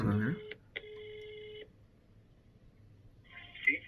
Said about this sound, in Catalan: Anem a trucar al pintor d'Arbúcies, va.